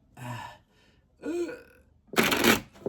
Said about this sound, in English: let's go ahead and shuffle this deck here